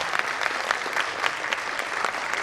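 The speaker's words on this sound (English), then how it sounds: "Can we have the claps louder?" Steady applause from an audience at a school annual day stage performance, dense and continuous clapping throughout at moderate loudness with no talk over it.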